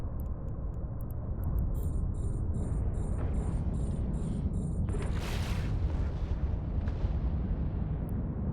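Weapons firing in the space game EVE Online: a dense, continuous, booming rumble of heavy fire with a repeating series of short electronic beeps over it and a sharper burst midway, no talking.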